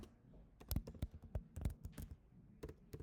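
Someone types on a computer keyboard while entering names into code. Quick irregular clicks and taps sound close and fairly quiet, with short pauses between bursts and no speech.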